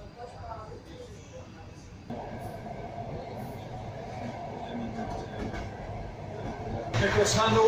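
Train rumbling eastward through Poland, a steady rolling low roar of the carriage on the rails that swells louder partway through, with a brighter rattle near the end; a voice talks over it.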